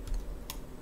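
A single computer keyboard key press during 3D modeling work in Maya, a faint, quick click against quiet room background.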